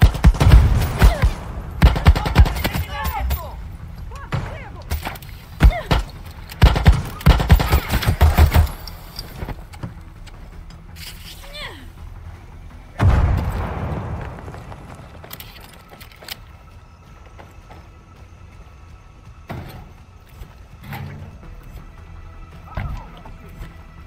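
Gunfire and an enemy grenade blast in Far Cry 6, loud rapid bursts of shots in the first ten seconds, a heavy boom near the middle, then quieter scattered combat noise.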